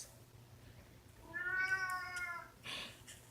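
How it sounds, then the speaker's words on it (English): Domestic cat meowing nearby: one drawn-out tonal meow followed by a short, breathier second call over a quiet room hum. "always a cat meowing at me"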